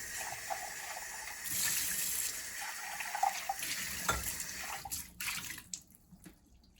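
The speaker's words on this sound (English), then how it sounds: "I'm going to rinse out my cup" A cup is rinsed under a running tap while making raspberry ice cream, with a steady rush of water and splashing that tapers off into a few drips and clinks.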